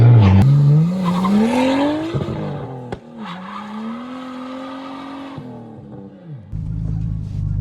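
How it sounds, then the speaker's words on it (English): A Nissan Skyline R34 GTT sedan, bagged, drives past on private land in Mexico, its engine note rising loudly as it approaches, sweeping through with tire squeal and a pitch drop as it pulls away, ending on a rougher idle-like rumble. "let's get Rhys to do some drive-bys"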